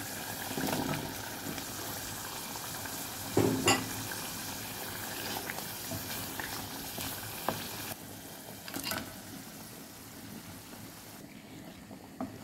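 Dried snakehead fish (gajar shutki) fries in a pan, giving a dense, continuous crackling sizzle with a few sharp stirring clanks and scrapes, close and loud, easing slightly toward the end.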